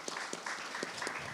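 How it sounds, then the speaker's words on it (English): A round of applause fills a business alliance meeting room, steady clapping from a modest crowd lasting just over a second, fairly quiet and unaccompanied by talk. "Let's give her a round of applause."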